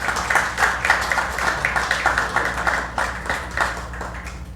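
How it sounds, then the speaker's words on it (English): A crowd applauds at an evening celebration event, the steady rhythmic clapping sustained and fairly loud throughout, with a low background hum beneath and no talk. "Let's give him a round of applause."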